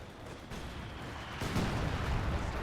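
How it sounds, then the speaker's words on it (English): Artillery barrages rumble through a Company of Heroes 2 battle, with a British artillery gun firing; a dense, continuous roar of booming impacts that swells louder after the first second and a half. "It looks like the British player is using artillery right over here."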